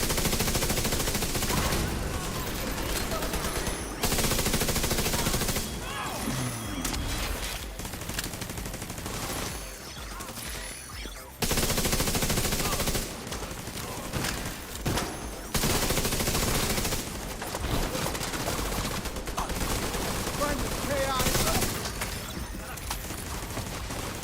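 Sustained loud gunfire from The Division 2 pours at a tank, dense fusillade-like bursts with brief gaps, and voices talk over the shooting.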